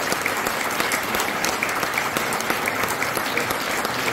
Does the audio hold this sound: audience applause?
yes